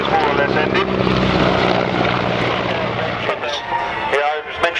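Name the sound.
Lockheed C-130 Hercules aircraft flying at an air show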